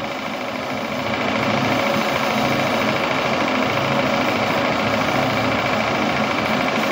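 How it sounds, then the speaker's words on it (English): A burner runs at full throttle during the final test run of a small engine system, a loud, steady, rumbling roar that swells slightly after the first second and then holds evenly. "Burner full throttle."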